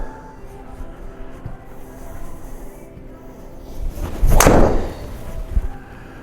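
A golf driver strikes a ball with one sharp, loud impact crack partway through, followed by a faint thump, over quiet outdoor background.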